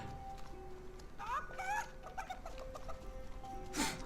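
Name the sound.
chicken clucking in the video game Destroy All Humans!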